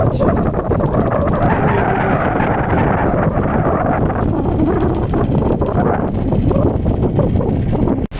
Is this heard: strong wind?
yes